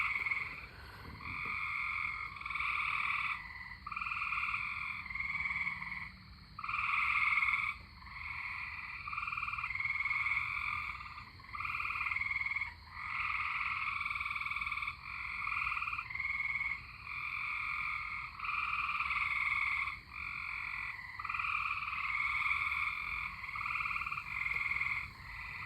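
A dense chorus of tree frogs croaks continuously outdoors near Troy, Illinois, ahead of a passing thunderstorm, with steady overlapping pulsing calls at moderate distance and no voices.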